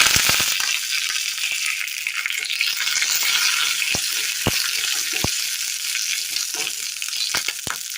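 Steady hiss of oil sizzling in a pan, broken by sharp pops and crackles as mustard seeds and curry leaves fry for a Kerala curry, close and fairly loud.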